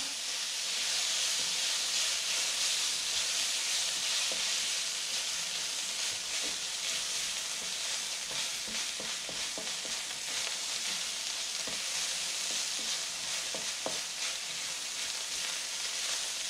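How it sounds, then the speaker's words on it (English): Vegetables fry in a hot pan for squid cooking outdoors, a dense, steady, loud sizzle and hiss that runs throughout, with faint clicks and scrapes from stirring, and no talking. "I'm going to go in with the veggies, get a bit of heat in those."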